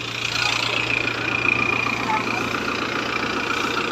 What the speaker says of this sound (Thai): นี่จะเป็นปั๊ม8นิ้วครับ นี่เป็นเครื่องยนต์อีซูครับผม